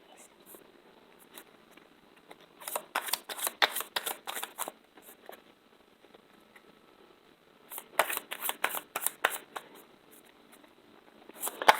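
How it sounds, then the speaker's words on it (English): Tarot cards shuffled in two separate bursts of quick, crisp riffling clicks with a quiet pause between them, close and fairly soft, no talking. "Shuffle a couple more times."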